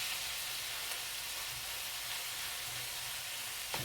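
Garlic and vegetables for stuffed squash sizzle steadily in a pan, a constant soft hiss with no talking and only a faint clink near the end.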